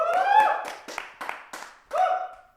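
A few scattered handclaps, five or six separate smacks, mixed with brief vocal sounds at the start and end.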